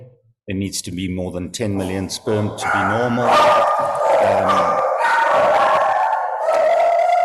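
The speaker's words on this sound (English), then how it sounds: "Sorry about the dogs" Dogs bark and yip repeatedly in the background, overlapping someone speaking close by.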